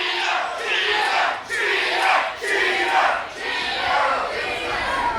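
A large crowd at a live pro wrestling event cheers and chants in loud rolling waves that rise and dip several times, filling the arena with dense massed voices.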